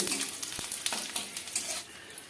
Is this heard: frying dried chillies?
yes